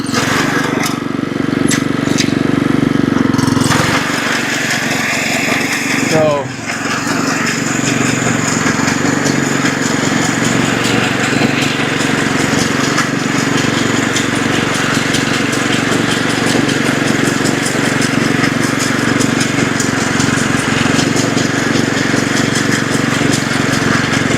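Lawn mower engine running continuously while mowing Kentucky Bluegrass outdoors, a loud steady drone lasting throughout with a brief dip partway through.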